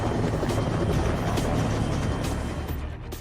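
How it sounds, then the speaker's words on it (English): Helicopter flying close by, a loud steady rotor roar with a broad throbbing rumble that eases slightly toward the end. "This chopper appears out of nowhere."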